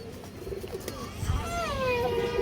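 Soft pigeon cooing mixed with other bird calls, including rising and falling whistled notes, against a steady background of outdoor noise.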